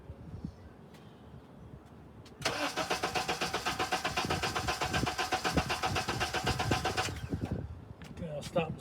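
A Honda engine cranks for about five seconds during a valve test, with a fast rhythmic starter chug. It begins after a quiet stretch with voices and stops abruptly.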